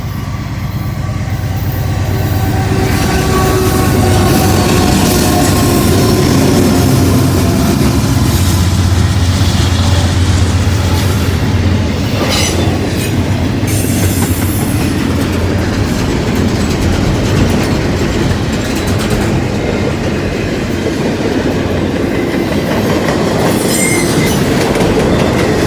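A long intermodal freight train rumbles past close by, wheels clattering and squealing continuously for the whole stretch, loud and unbroken.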